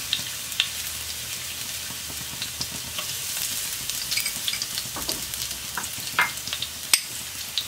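Four or five finely chopped garlic cloves fry in hot coconut oil, giving a steady close sizzle with scattered crackles and occasional stirring clicks, with no voices.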